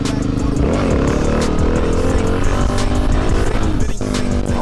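A supermoto motorcycle engine runs loudly and roughly up close, its revs wavering up and down before the running note suddenly drops out near the end as it stalls.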